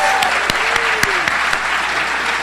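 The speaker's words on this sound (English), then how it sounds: "Let's give a round of applause for that" An audience claps for the president of a cable news network at a live book event, a thick, sustained burst of applause with a few sharper individual claps and a faint tone gliding underneath.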